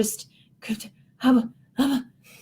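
A person's voice imitates panting with four breathy, rhythmic huffs, each slightly voiced, spaced about half a second apart.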